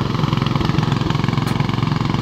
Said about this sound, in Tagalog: kailangan ilagay lang dun sa umiikot na makina